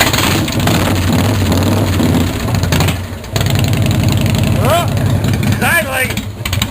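A Harley-Davidson Fatboy motorcycle engine cranks from cold and then idles with a loud, close, lumpy rumble that briefly dips and picks back up, while someone talks excitedly over it.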